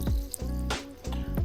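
Liquid for homemade beginner wine is poured out in several short gushes, close and fairly loud, with splashing bursts separated by brief pauses.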